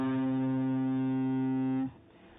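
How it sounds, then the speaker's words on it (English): An electric guitar with heavy distortion sustains one buzzing, harmonically rich note or chord loudly for almost two seconds before it is cut off abruptly, leaving low residual noise. "We've also added another focal point by including distortion in our guitar."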